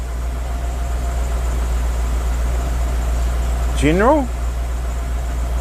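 A Nissan VK45DE V8 in a D40 Navara idles steadily at around 870 to 900 RPM with a low, even hum, while a brief voice is heard over it.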